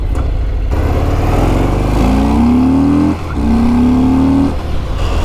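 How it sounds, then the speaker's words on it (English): Harley-Davidson cruiser with a 114 engine, loud and close, revving up in two rising pulls with a short dip between them over a deep continuous rumble. "That 114 has a nice smooth rumble to it."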